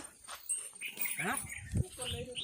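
A dog whimpers and gives short yelps nearby, mixed with people talking and outdoor farmyard noise.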